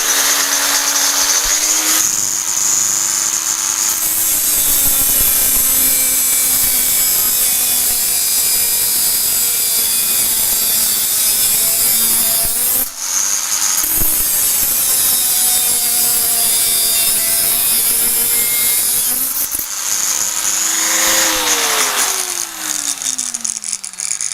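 A loud, steady high-pitched whine of a RotoZip Rebel rotary cutting tool at speed 2 biting into wood, pitch dipping and rising as it loads up, with two brief pauses.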